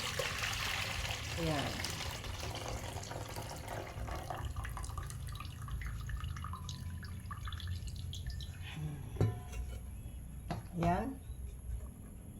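Hot water drains and trickles off blanched bitter gourd (ampalaya) being prepared for a soy sauce sauté, a soft steady dribble running beneath near, continuous talk.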